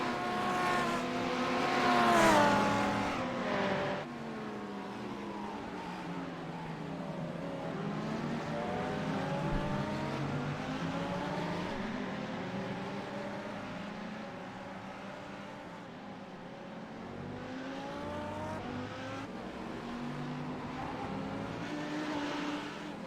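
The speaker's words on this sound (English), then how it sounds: "there's still approximately 35 cars in race, so there is a lot of overtaking without any changes of position" Touring race cars in a DTM-style event at the Zolder circuit, Belgium, with a crowded field overtaking: layered engine roars and revving pass by continuously, loudest at the start, with several cars blending together at close to mid distance.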